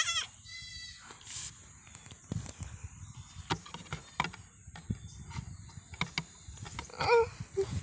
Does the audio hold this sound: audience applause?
no